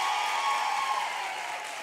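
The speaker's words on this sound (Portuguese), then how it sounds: "Vamos aplaudir a Manu!" A small audience claps for a four-year-old girl about to sing on a children's TV show, steady dense applause filling the whole moment without voices.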